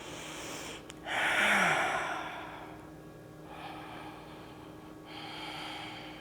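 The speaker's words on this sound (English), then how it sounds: "Couple of relaxing breaths." Slow, relaxed breathing during a Kundalini yoga meditation: a deep, airy inhale swells near the mic, then two softer breaths follow, each a gentle hiss in a quiet room with no talking.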